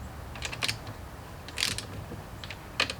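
Bolts on a GY6 171cc big bore kit, a Honda Ruckus scooter engine, tightened in a star pattern with a ratchet: short bursts of quick clicking ratchet strokes, close but faint, with no talk.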